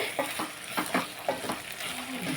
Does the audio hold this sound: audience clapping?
no